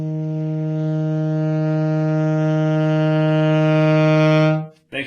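A saxophone low C, with lips tightened to start from the faintest breathy tone, swells into a steady, full, reedy note with rich overtones, played alone for several seconds before stopping abruptly.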